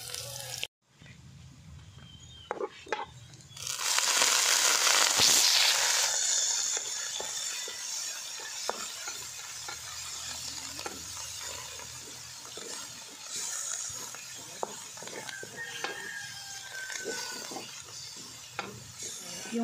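Garlic frying in a pan until golden brown, a loud burst of sizzle at the start that settles into a steady, softer crackle with occasional clinks of a utensil.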